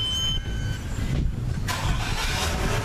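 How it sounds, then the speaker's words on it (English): A Nissan Maxima engine cranks and catches via remote start, settling into a steady idle, heard close with no one speaking. "then the car starts"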